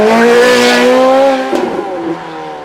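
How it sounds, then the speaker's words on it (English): A naturally aspirated V8 Ferrari race car at a supercar weekend at Beaulieu howls loudly as it climbs through the revs. The engine holds a high, rising wail, then drops off after a brief gear-change crackle, fading as it pulls away. "That naturally aspirated V8, that glorious howl as it climbs through the rev range."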